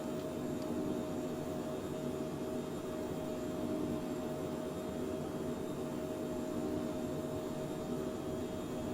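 Twin jet engines of a Phenom 100 at takeoff power in Microsoft Flight Simulator 2020 keep up an even, steady whooshing roar with a faint high whine, unbroken and with no voices.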